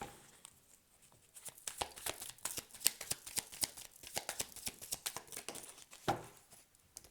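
Playing cards shuffled and drawn in a rapid run of crisp riffling flicks and soft slaps, close and fairly quiet, with no talking.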